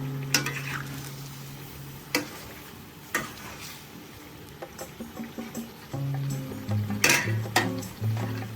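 Chicken skin fries in hot oil with a dense, crackling sizzle, and ladle or spatula stirring adds clinks and scrapes at intervals throughout.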